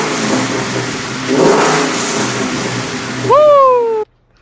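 A Ford Foxbody with a Gen3 engine swap revs up in rough bursts under background noise, ending in a rising, sustained high rev before cutting off abruptly.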